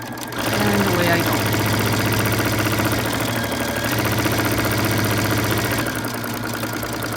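A sewing machine hums and clatters in a fast, steady rhythm while stitching a zipper pillow cover, running continuously and close for about seven seconds.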